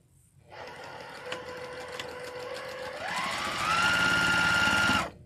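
A sewing machine runs on its final seam, starting with a steady hum. Partway through, the motor speeds up into a higher, louder whir, then stops abruptly. It is heard alone, close up, with no talking.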